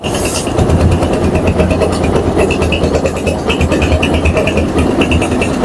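A second-hand Bajaj Discover 135 cc motorcycle with about 38,000 km on it idles steadily and evenly, the engine close and loud with a smooth, continuous putter and no talk.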